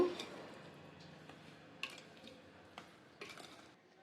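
Amla pickle being mixed with tamarind pulp in a pot: soft, faint scraping and stirring with a few sharp clinks of a spoon against the metal at irregular intervals.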